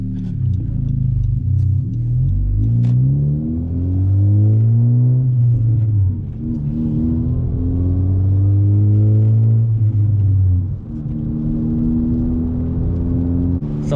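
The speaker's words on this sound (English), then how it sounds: "Like the exhaust noise and the droning, it's pretty up there in sound level." Loud, deep engine droning with rising and falling revs as a 10th-generation Honda Civic Si with a race exhaust drives through a city, the exhaust rumbling continuously throughout.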